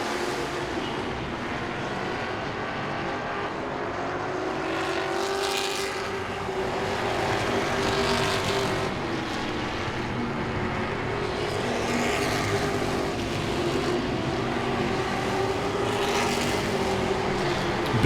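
Grand Stock race cars circle Langley Speedway during an October race, a sustained roar of engines that swells and fades slightly as the pack passes, loud and continuous throughout.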